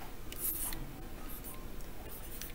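Pen or marker scratching steadily across paper or a board while numbers are written out by hand, a close, continuous faint rasping with small strokes and pauses, no talking.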